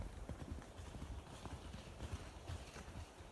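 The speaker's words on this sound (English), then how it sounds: "The horses are back, and I will have to do the round pen another day." Horses walking back in on a rural property, their hooves clip-clopping in an irregular, fairly quiet rhythm against a low steady background.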